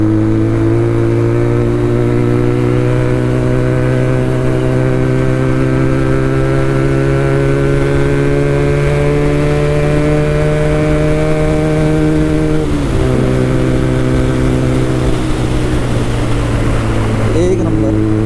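A Benelli TNT300 motorcycle, a 300 cc inline-four fitted with an Ixil full exhaust system, holds a loud, smooth, steady engine drone that climbs gradually in pitch as it accelerates, then briefly dips near the end, heard up close.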